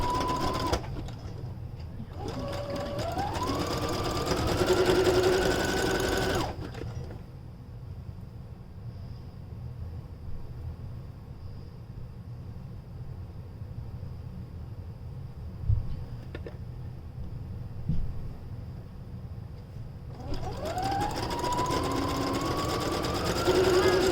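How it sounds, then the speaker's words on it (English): A sewing machine stitches a fabric beard sock, running steadily and close, with pauses between runs. A person talks over parts of it. "Very hard sewing when your sewing machine is not right in front of you."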